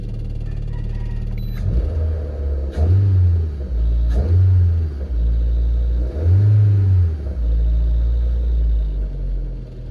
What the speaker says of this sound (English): As you can see, my idle's a bit accelerated. It's supposed to be at 700, but it's not idling correctly.